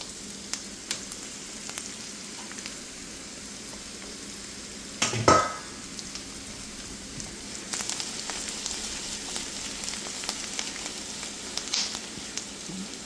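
Onions fry in a hot pan, a dumpling filling on the way, with a continuous soft sizzle throughout and a short louder burst of crackle and stirring partway through, with no talk.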